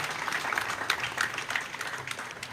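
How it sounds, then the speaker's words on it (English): An audience at a prison inmates' skills-training graduation ceremony claps together, a dense, steady patter of many hands that holds throughout without voices on top. "So can you please give a round of applause for everybody for the great work that we are doing."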